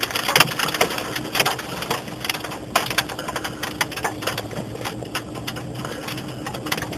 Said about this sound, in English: Coming up on 2 minutes of hail.